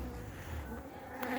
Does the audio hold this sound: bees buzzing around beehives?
yes